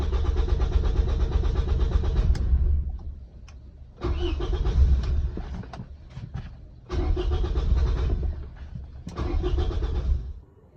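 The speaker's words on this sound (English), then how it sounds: "here I'm attempting to crank or start the car without taking any preliminary steps" A 2002-06 Toyota Camry engine cranks in repeated loud, close bursts, each churning for a second or two and briefly catching before dying, separated by short pauses.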